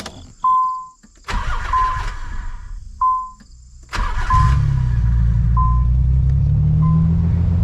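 A Nissan 300ZX, sitting on bricks in neutral, cranks with a few short starter bursts and then catches, settling into a steady, loud idle that continues to the end, with faint electronic chimes over the early cranking.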